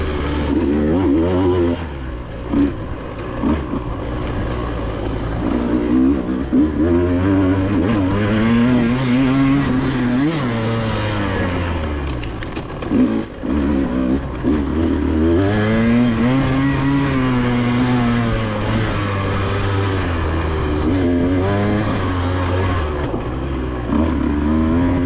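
A dirt-track racing motorcycle at a TCCRA race at Twin Hills roars close and loud, its engine rising and falling as it revs and shifts through the whole stretch with no talking.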